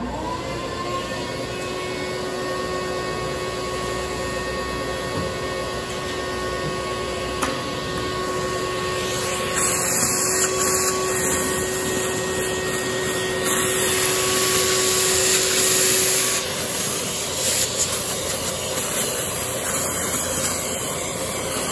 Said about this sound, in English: I'm gonna grab my shop vac and I'm gonna clean up that screen right there.